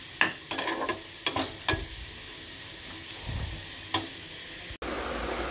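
Leftover dal (lentils) being reheated in a pan, with a spoon scraping and clacking against the metal in a few quick strokes over a soft, steady sizzle, then a pause and one more stir. No voices.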